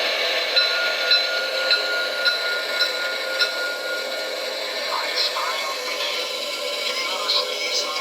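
Steady mechanical hiss and rumble with a rhythmic clicking like train wheels over rail joints, an O-scale model of a DB class 01 steam locomotive with DCC sound running continuously.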